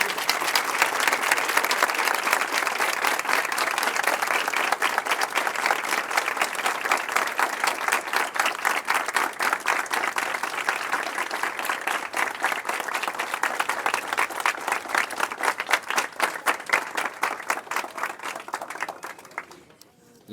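Sustained applause from an audience at a tribute to Matheus, a young drowning victim, with dense steady clapping lasting about twenty seconds before fading out at the end.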